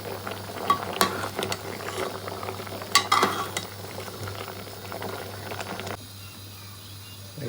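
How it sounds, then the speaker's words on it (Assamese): Green bamboo shoots boil in a pot on a kitchen stove, a steady bubbling and simmering with a few sharp clinks of utensils or lid, then the bubbling quiets to a softer hiss near the end. "এয়া মই বাহৰ গাজাখিনি অলপ বইল কৰি ল'লোঁ"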